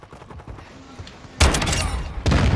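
A shotgun blast in a video game, two loud, close, booming shots with quieter game sounds and thuds before them.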